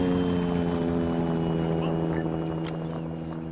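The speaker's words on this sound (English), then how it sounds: "helicopter." Military helicopter in the Arma 3 video game flying steadily nearby, a continuous loud rotor and engine drone that fades slightly toward the end, with no talking.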